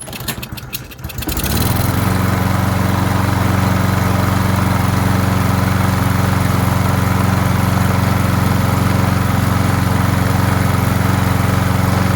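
A Carhartt lawn mower engine, running again after old bad fuel was replaced, catches after a second of cranking and settles into a loud, steady, close drone that continues unbroken.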